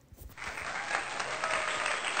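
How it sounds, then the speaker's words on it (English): An audience claps together after a read-aloud story about a boy named John who dances, the steady applause swelling quickly and holding dense and even throughout. "We clapped."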